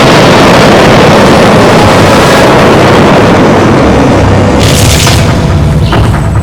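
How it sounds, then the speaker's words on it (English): Huge explosion that threw up a mushroom cloud: a loud, sustained, rumbling roar that fills the whole stretch, with a brief hissing burst near the end. "The final explosion resembled a nuclear mushroom cloud."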